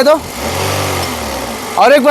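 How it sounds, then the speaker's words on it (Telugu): A 2011 Toyota Corolla Altis G engine hums steadily as the accelerator is pressed, a smooth, quiet, mid-pitched drone, with a voice briefly heard at the start and end. "అలాగే ఒకసారి యాక్సిలేటర్ ఇచ్చి చూపిస్తానండి"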